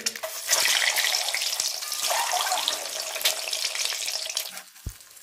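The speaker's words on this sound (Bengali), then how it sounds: "আমি এরকমভাবে মাঝখান দিয়ে চিড়ে ভালো করে ভেজে নেব ডিমগুলো হালকা লাল লাল করে" Whole eggs, slit down the middle, fry in a saucepan until lightly reddened, a loud dense hissing sizzle that tapers off near the end before a brief low knock.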